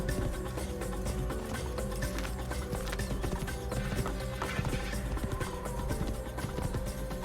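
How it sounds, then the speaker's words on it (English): A horse being ridden in the Assassin's Creed video game, with steady, rhythmic hoof clip-clops and mechanical rattling that run continuously at moderate volume. "I'm riding me horse, bud."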